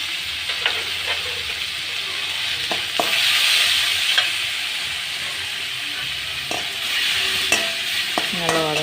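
Tomatoes sautéing in a pan, a continuous sizzle with scraping stir strokes and occasional utensil clinks against the metal, close and fairly loud with no voices.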